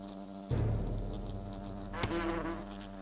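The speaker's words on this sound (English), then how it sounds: "Those are very large wasps." Large wasps in the video game Fable Anniversary buzz loudly and continuously after a sudden start, a dense insect drone with one sharper swell near the end and no talk over it.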